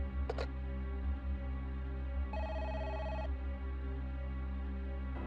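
An old-style telephone rings in the Parasite Eve video game: one short, bright, steady ring burst of about a second rises over a low, constant game drone.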